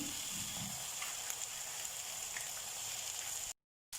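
Steaks sizzle in a hot pan just after being flipped, giving a steady, close hiss and crackle. The sound cuts out briefly near the end and then returns.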